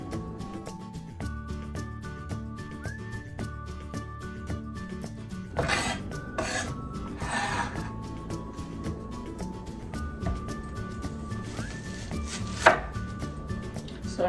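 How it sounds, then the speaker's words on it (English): A knife chops washed, drained spinach on a board in a steady, rapid run of close, crisp cuts, with a few louder knocks partway through and no talking. "I'm gonna cut up the spinach"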